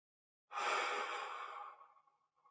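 A single long, deep exhale during a guided heart-centered meditation, close and breathy, rising suddenly then tapering off over about a second and a half into quiet.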